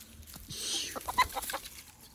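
Chickens clucking at close range on a rural Thai homestead, with a few short, sharp clucks and calls rising over a quiet background.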